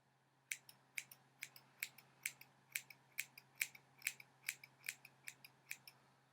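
Scissors snip steadily through a hair fringe, about fifteen crisp, close cuts in an even rhythm against a quiet background.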